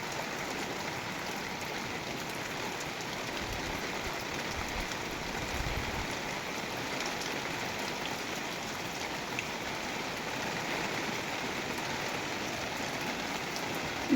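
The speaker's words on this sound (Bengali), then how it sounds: "বিশাল বৃষ্টি পড়ছে" Heavy rain pours steadily onto a pond, a dense, even hiss with spattering drops that stays loud and unbroken throughout, with no voices.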